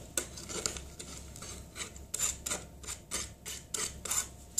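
Paint is stirred and mixed for a pastel custom shoe, a soft repeated scraping and rubbing in short irregular strokes, close and quiet.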